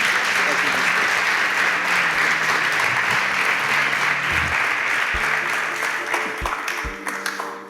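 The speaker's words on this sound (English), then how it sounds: "Please, a round of applause for them." A studio audience at a Nigerian competition show applauds steadily and loudly for eliminated contestants, a dense, continuous wash of clapping with faint background tones underneath.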